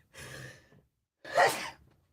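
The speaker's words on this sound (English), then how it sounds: "I'm going to sneeze right now" A short breathy inhale followed by a single sharp, forceful sneeze, close and alone in the quiet.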